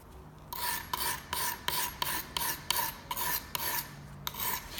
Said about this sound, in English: You can see how I'm filing it down.